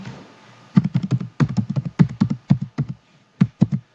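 A password typed on a computer keyboard: bursts of rapid, close, crisp key taps in short groups with brief pauses between, fairly loud against a quiet room, no voices.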